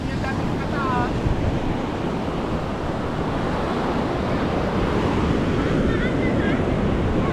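Strong surf crashing and splashing nearby in gusty wind, a continuous loud roar of water with a few faint high squeaks over it.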